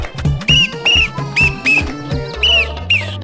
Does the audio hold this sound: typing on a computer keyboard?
no